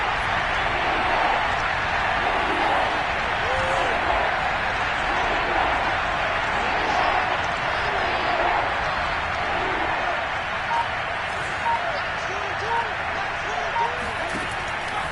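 Dense, steady roar of a packed football stadium crowd at Arrowhead during a third-and-goal play, a continuous wash of loud noise with scattered whistles and shouts rising above it throughout.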